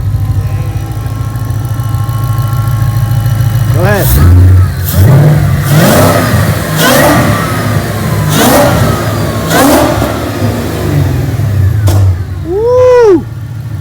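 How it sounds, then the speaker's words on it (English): Supercharged 5.0 V8 in a rebuilt Ford Mustang GT idles loudly up close, then revs repeatedly in sharp bursts with rising supercharger whine; people talk briefly and someone whoops over it. "Let's hear that supercharger whine."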